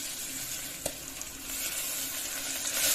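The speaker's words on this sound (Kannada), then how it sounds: "ಚೆನ್ನಾಗಿ ಫ್ರೈ ಮಾಡ್ತೀವಿ" Fenugreek leaves frying with turmeric in a pan for methi peas pulao, a steady close sizzle with one soft spatula tap early on and the hiss swelling slightly toward the end.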